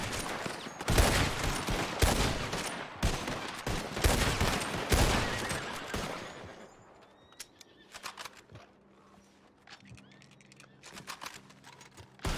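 Heavy gunfire in the WildRP western roleplay game: a dense run of loud, rapid shots for about six seconds, then a few scattered, fainter shots against quieter ambience.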